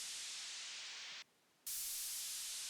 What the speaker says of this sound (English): This is just some more white noise.